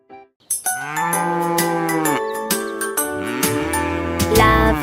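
A cow moos in long, drawn-out calls with rising and falling pitch, clear and close, opening a French children's song about a cow, with musical backing building underneath.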